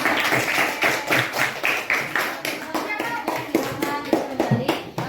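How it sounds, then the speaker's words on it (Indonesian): Students in a classroom give a group a round of hand claps, a fairly close, rhythmic burst of individual claps from a small gathering, with a voice briefly audible among them. "tepuk tangan untuk kelompok"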